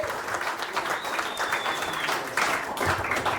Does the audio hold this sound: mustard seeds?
no